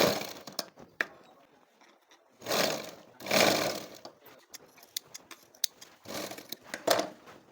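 A sewing machine runs a quarter-inch seam joining cut fabric pieces, its motor whirring in several short bursts separated by pauses and clicks, close and moderately loud.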